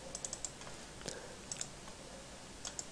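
Computer mouse clicks while opening a Bitcoin wallet file on a computer: several light, sharp clicks come in close pairs, near and fairly faint over a steady background hiss, with no talking.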